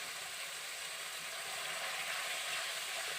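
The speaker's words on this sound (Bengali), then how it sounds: "এবার আমি এর মধ্যে দিয়ে দেব হাফ চামচ গরম মশলা গুঁড়ি" Masala sautéing in a pan with garam masala powder added, for a village-style pointed gourd (potol) vegetarian curry: a steady, soft, hissing sizzle that stays even and uninterrupted throughout.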